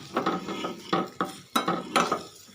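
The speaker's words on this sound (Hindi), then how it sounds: "साथ साथ चम्मच चलाते रहना ताकि लहसुन की कोई साइड ज़्यादा फ्राई ना हो जाए।" Garlic frying in cooking oil in a pot while a spoon stirs it, repeated metallic scrapes and clinks of the spoon against the pot over a light sizzle, close and rhythmic, no voices.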